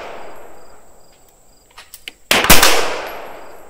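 A 509C Edge pistol fires one loud, sharp shot at close range after a few faint clicks, and the blast trails off over about a second.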